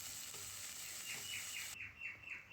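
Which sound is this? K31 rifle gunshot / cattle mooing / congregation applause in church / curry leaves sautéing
curry leaves sautéing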